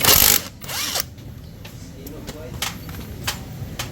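An impact tool loosens the cam bolt on a Yamaha Sniper 150 motorcycle engine, producing a loud, close, harsh burst at the start and then quieter clicking and rattling over a low hum.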